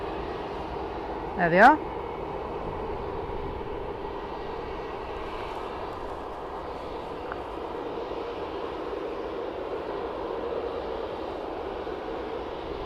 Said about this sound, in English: Ryanair also taxiing to the runway.